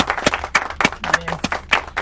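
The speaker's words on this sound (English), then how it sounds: "I need a round of applause for this one." A small group claps in a quick, even rhythm during a porch birthday gathering, each sharp clap distinct and close at hand.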